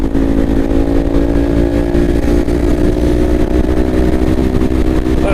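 Kawasaki Ninja 400 motorcycle engine droning steadily at high revs while pulling out to pass, a loud, continuous close-up tone with no break across the whole stretch.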